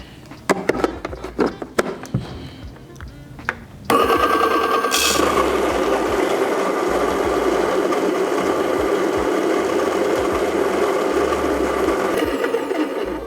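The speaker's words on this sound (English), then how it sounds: "the only little downside of these cheaper grinders is they are quite loud" Brief clatter and clicks, then a loud, steady whirring grind of a Baratza Encore electric burr coffee grinder running continuously for several seconds before winding down.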